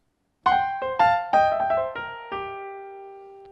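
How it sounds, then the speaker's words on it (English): Solo right-hand blues piano riff with a slide into a short run of bright, ringing notes, about six strikes in quick succession before the last note sustains and fades; close and clear, no talking. "So the whole riff on its own sounds like this."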